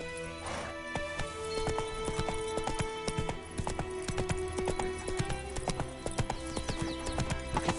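Hooves of Roach, a horse in The Witcher video game, clip-clop at a steady galloping rhythm with a brief neigh near the start, all against a dense game soundscape.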